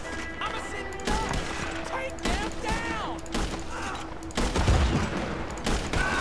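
Gunfire in the online Western game Red Dead Online, repeated sharp shots and crashes spread through the scene, mixed with game ambience while a player talks over it.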